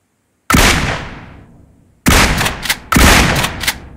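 Three loud, close gunshots from a rifle in PUBG Mobile. The first booms and decays slowly, and two more come in quick succession with bright, cracking reports.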